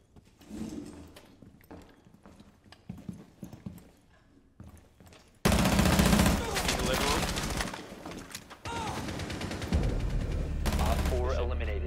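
Gunfire in the tactical shooter Rainbow Six Siege, loud bursts of shots with game effects arriving suddenly after quieter stretches of talk, continuing dense and busy to the end alongside voices.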